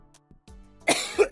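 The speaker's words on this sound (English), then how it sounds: "Cough, cough." A single person coughs twice in quick succession, close and fairly clear, after a brief throaty lead-in.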